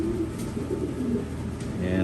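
Pigeons in a breeding loft coo in low, overlapping murmurs that run steadily throughout, with a person speaking faintly underneath.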